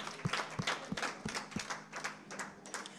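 A church congregation claps together in worship, a string of sharp, roughly regular claps sounding in the hall before fading into looser, scattered applause.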